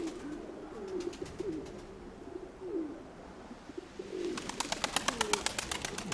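Pigeons coo softly with low throaty calls while coming in to land, followed by a burst of rapid wing flapping near the end.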